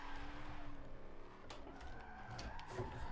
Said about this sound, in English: might have drifted a bit too wide there